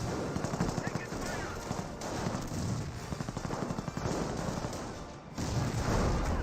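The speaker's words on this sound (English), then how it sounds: "The senior grenade has been fired." Battle gunfire in Company of Heroes with a rifle grenade fired, rapid machine-gun bursts and rifle cracks over a noisy wartime soundscape, followed by a louder blast near the end.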